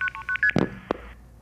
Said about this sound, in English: Multi-frequency is a different set of tones